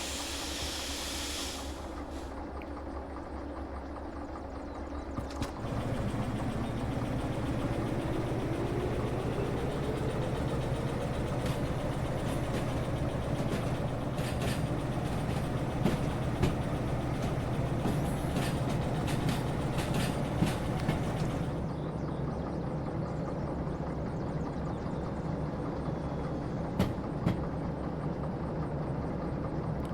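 A freight train in the game Derail Valley runs with a steady loud rumble and hiss, a rising whine building as it gets under way, with occasional clanks over the continuous drone; no speech.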